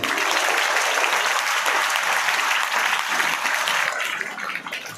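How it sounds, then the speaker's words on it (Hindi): Loud audience applause at a public gathering, a dense, sustained roar of many clapping hands filling the whole stretch and tapering slightly toward the end. "एक बार फादर के लिए जोरदार ताली बजाएं।"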